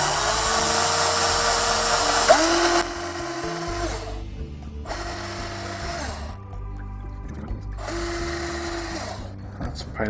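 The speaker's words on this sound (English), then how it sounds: "I just need to drill through this pilot hole into the other one" A small power drill whines in several bursts while drilling through a pilot hole, starting and stopping with brief quiet gaps, close by.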